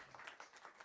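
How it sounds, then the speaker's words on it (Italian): Audience applause greeting a panelist introduced at a gaming industry event, a brief, fairly faint patter of many hands clapping with no voices over it. "un applauso"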